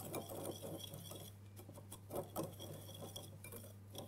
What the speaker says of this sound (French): la poudre d'amande, la noix de coco et la farine. Et là, pareil, on va bien mélanger le tout